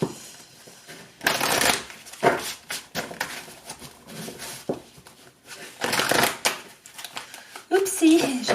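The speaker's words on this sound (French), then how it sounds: "j'ai mal brassé les cartes" A tarot deck is shuffled by hand in several short, crisp riffling bursts close to the microphone, with someone talking between and over them.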